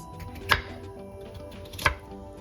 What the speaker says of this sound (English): I'm going to cut them up into dices